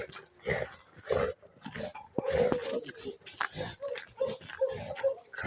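A stray dog during a dog-catching round in a city district gives a run of short, faint whines and yelps in uneven bursts.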